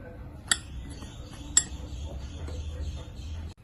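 A ladle mixes sugar in a pan, with two sharp metallic clinks and soft scraping close by, and no one talking.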